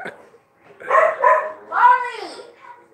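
A dog gives a few close, high-pitched barks and yips in quick succession, with a short whiny edge on the last one.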